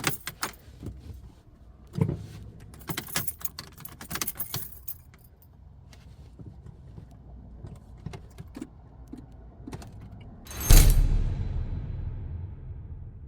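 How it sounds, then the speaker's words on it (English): Keys jangle in bursts from a ring inside a moving car with a battery that needed a jump start this morning, over a low steady road rumble, followed near the end by a louder rushing swell. "As you can tell, car's driving."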